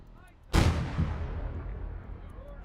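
An artillery strike in the Gates of Hell: Ostfront video game lands as a single sudden, loud boom that rolls on in a long rumbling decay.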